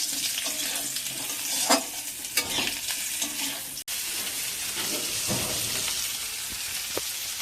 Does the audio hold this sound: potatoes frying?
yes